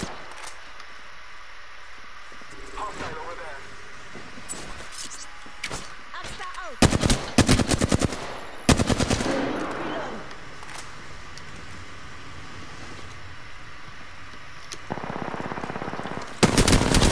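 Gunfire in the video game Apex Legends comes as loud, close bursts of rapid automatic shots and single blasts, mixed with spoken in-game callouts and player talk.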